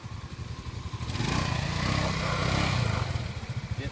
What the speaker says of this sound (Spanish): Te voy a hacer escuchar el sonido